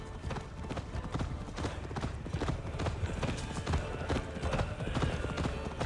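Horse hooves gallop in a steady, dense clip-clop through the whole stretch in Assassin's Creed Valhalla, a Viking-era game, with a thick rumbling bed of movement underneath and possible voices mixed in.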